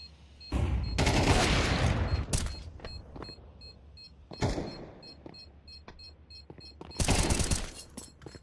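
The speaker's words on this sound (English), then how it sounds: "Nice shots coming in from Sodi." Bursts of gunfire from a tactical shooter video game match in a European Pro League esports broadcast: rapid automatic volleys, scattered single cracks and clicks, then another loud burst near the end.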